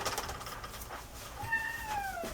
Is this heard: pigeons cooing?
no